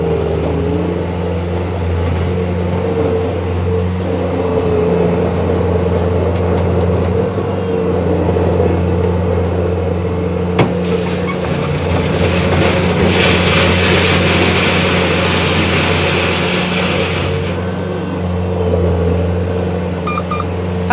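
A 2013 Bobcat S175 rubber-tire skid steer loader with a Kubota diesel runs steadily for about twenty seconds, its engine a loud, constant low rumble that swells briefly with a rushing, revving surge as the boom works, with no talking.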